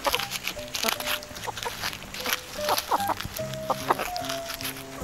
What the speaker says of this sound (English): What happy chickens.